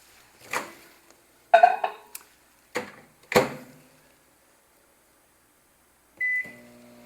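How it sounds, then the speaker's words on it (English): A microwave oven softening cream cheese in a home kitchen, heard as a few clicks and knocks of the door and buttons, then a short steady electronic beep near the end. "I'm going to put this in the microwave"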